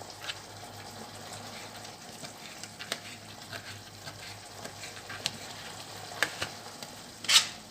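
Tomatoes cook in a pan with a low, continuous sizzle and faint bubbling, punctuated by occasional soft clicks and a brief louder scrape near the end, with no voices.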